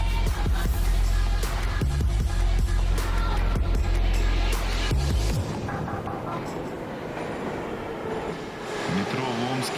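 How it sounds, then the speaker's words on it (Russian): A subway train in Omsk rumbling loudly with clanks of wheels on track, then the roar eases into a quieter interior hum; faint voices are present. "Метро в Омске."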